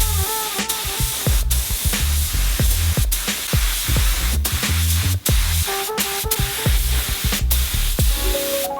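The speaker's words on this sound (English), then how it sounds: "Go ahead and spray out that water pump housing" Steady spray hissing of coating applied to a Honda NSX water pump housing runs throughout, broken by frequent short clicks and knocks, with faint tonal sounds mixed in; no one speaks.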